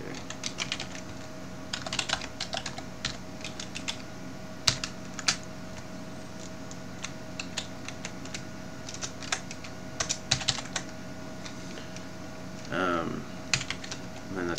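Steady typing on a computer keyboard while coding JavaScript, with quick irregular key clicks and occasional louder taps continuing throughout, close and fairly quiet, with a brief voice near the end.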